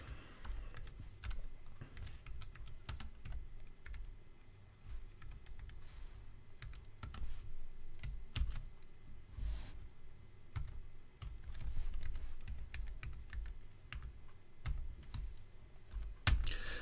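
Commands are typed on a computer keyboard while installing Steam OS in VirtualBox, giving a long stretch of quiet, irregular keystroke clicks close to the microphone.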